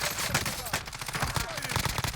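Automatic gunfire in Call of Duty Warzone, fast repeated close shots in bursts filling the whole moment, with players chatting faintly beneath.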